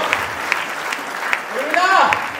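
Applause for Sunita madam at a gathering, a brief burst of scattered hand claps with a few sharp individual claps standing out, mixed with voices talking over it.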